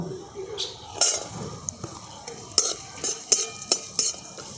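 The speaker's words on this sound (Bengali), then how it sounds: "কাজু আর কিশমিশ এগুলোকেও আমি এই ঘিয়ের মধ্যে দিয়ে হালকা করে ভেজে নেব" Soft sizzling of cashews and raisins frying in hot ghee, with a spoon stirring and clinking against the pan.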